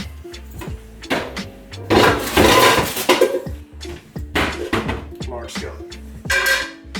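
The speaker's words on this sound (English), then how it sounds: "We're going to get a large skillet." A large skillet is pulled out from among pots and pans, with a run of loud metallic clanks, scrapes and rattles in bursts close by, some louder clattering in the middle.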